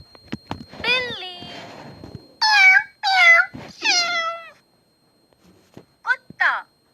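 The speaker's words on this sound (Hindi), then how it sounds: "बिल्ली" A domestic cat meows repeatedly and loudly up close, a run of several drawn-out, wavering cries with short gaps, then a pause and a final pair of meows, heard alone without talk.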